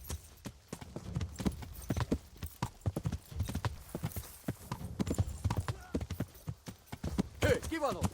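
A horse's hooves clip-clop in a brisk, uneven rhythm in the video game Kingdom Come: Deliverance, close and continuous, with a short whinny near the end and a voice speaking over it.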